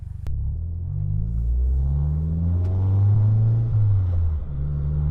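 A car converted to front-wheel drive, an S1, on a road test: a steady low engine rumble that swells and eases as it drives, with wind and road noise and no talking.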